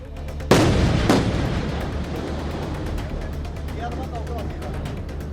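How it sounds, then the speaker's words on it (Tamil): An explosive blast breaks up giant boulders that have fallen onto a highway, giving one sudden loud boom followed by a second burst and a long rumbling decay. "சாலையில் விழுந்த ராட்சத பாறைகளை நெடுஞ்சாலைத்துறையினர் வெடி வைத்து தகர்த்து போக்குவரத்தை சீர் செய்தனர்"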